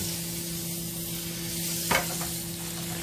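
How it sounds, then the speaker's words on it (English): A ribeye steak sears in a hot pan with butter and olive oil, giving a steady, moderate sizzle with a brief crackle and spatter near the middle. "nice hot pan. Take our steak out. Let's brown it."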